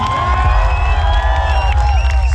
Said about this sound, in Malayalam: ഒരു അടിപൊളി കൈയടി കൊടുക്കാവോ?